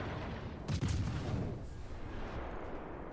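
Heavy naval broadsides boom out in a warship video game, a dense burst of deep gunfire blasts near the start over a steady rumbling battle din, with no talk.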